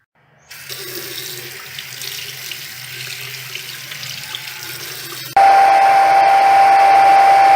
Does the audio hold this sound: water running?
yes